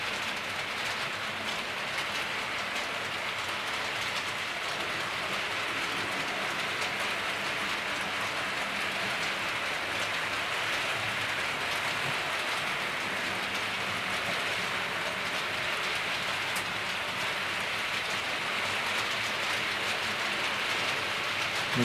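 A Hornby model train pulling a long rake of Cross Country Mark 3 coaches runs continuously on a short circuit, giving a steady, even rushing rumble like distant rain that holds at one level throughout, with no voices.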